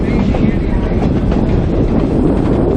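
A train on the Verde Valley Railroad rolls along beside the Verde River, its loud steady rumble mixed with wind buffeting the microphone from an open car.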